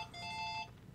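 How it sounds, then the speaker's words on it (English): A single short electronic ring tone from a phone, heard once and faintly at a distance, lasting under a second. "phone's ringing"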